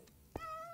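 A single short cat meow from a video game with a cave setting, a brief sharp call standing alone over quiet background.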